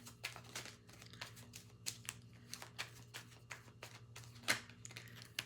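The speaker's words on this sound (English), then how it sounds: "I'm gonna shuffle that again" A deck of tarot cards is shuffled by hand up close, giving a quiet, irregular run of soft flicking taps with one sharper snap near the end.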